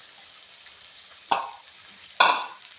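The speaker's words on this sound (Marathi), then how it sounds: "आणि लगेच ह्या आपण दोडक्याच्या ज्या फोडी चिरून घेतल्या होत्या त्या पण टाकते." Ridge gourd pieces tipped into hot oil with chopped coriander, giving two sharp bursts of loud sizzling that flare up and fade over a steady background hiss of frying.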